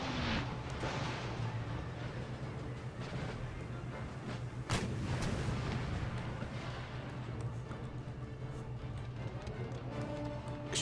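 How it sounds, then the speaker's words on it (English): Battlefield cannon fire in Empire: Total War, with a great gun being bombarded: a steady din of distant artillery booms and musketry, one sharper blast standing out midway, continuous and fairly faint. "Keep bombing the great gun."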